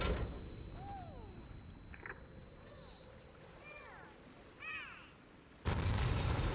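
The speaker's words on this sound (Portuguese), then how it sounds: "Aí está, uma mini explosão nuclear feita pelos cristais" In Fortnite, a tower triggers a mini nuclear explosion: a few chirpy electronic game tones precede a sudden loud, broadband blast that roars on without fading until the end.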